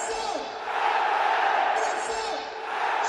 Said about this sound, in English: When you hear this crowd, they believe.